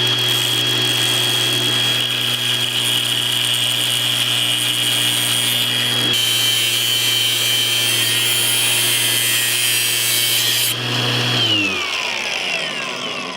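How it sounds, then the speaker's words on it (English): An angle grinder cuts through the titanium frame of an iPhone 15 Pro Max with a loud, continuous high-pitched whine. The pitch shifts partway through, then the motor spins down near the end. "No bond survives an angle grinder."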